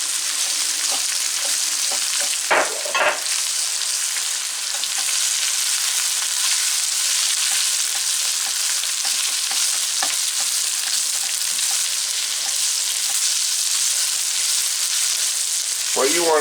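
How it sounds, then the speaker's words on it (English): Rice fries steadily and loudly in a hot oiled pan for kimchi fried rice, a continuous crackling hiss with occasional clinks of a utensil stirring. "you can see the pan is sizzling up nicely"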